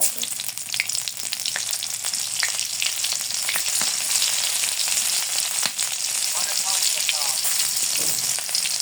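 Onions sizzle in hot oil in a village kitchen, a dense, continuous close crackle with scattered pops and stirring scrapes, loud and steady throughout.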